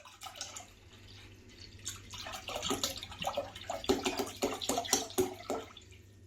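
Spring water pours and splashes into a plastic brewing fermenter for a Chardonnay wine kit, starting as a gentle trickle and building into a louder, gurgling stream close to the microphone.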